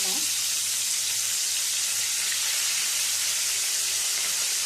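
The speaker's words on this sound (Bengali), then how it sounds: "মাছগুলো এপিট ওপিট করে ভেজে নেব।" Vola fish pieces frying in hot oil in a wok, a loud, dense and continuous sizzle with steady hissing throughout, close up.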